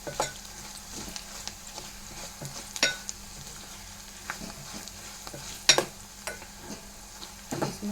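Moong dal fries in a pan, a soft steady sizzle broken by occasional scrapes and clinks of a spoon stirring against the metal, close and moderately quiet.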